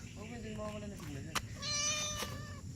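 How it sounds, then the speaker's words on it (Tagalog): A hungry, shy cat meows a few times, drawn-out and fairly close, with a person talking quietly in the background. "Ito yung mahiyain na pusa."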